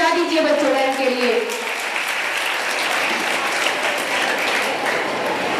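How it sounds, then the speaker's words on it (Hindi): Applause at a school investiture and award ceremony, with a voice speaking over the opening before a crowd of children and guests claps steadily and loudly to the end. "तो एक बार जोरदार तालियां बजा दीजिए बच्चों के लिए।"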